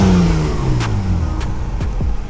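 A car engine with a new transmission revs up close by, and its pitch sinks back down after each rev. Short mechanical clicks punctuate the loud steady drone.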